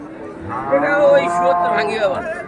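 A cow at a rural cattle market in Bangladesh where Friesian and crossbred calves are sold lets out one long, loud, close moo that rises and falls over about two seconds.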